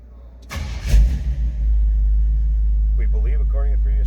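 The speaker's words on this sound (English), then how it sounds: "let's go ahead and fire this up" A 1955 Chevrolet 3100 pickup's engine cranks briefly with a few loud uneven bursts, then catches and settles into a deep, steady, loud idle rumble while someone talks over it.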